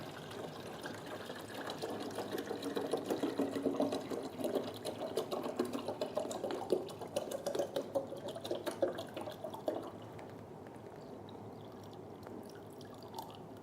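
Mineral water is poured into the water tank of a Focus Alpha-Jet A2 UV printer, a close trickling, gurgling stream that runs for about ten seconds and then stops, leaving a quiet hum.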